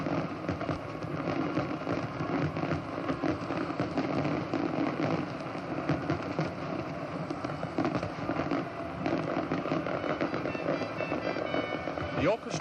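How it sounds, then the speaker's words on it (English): Fireworks explode over Sydney Harbour for the 1986 Royal Australian Navy 75th anniversary review, a continuous crackling barrage of bursts blended with orchestral music for the whole stretch. "The orchestration accompanying the exploding fireworks certainly added another stunning dimension to the display."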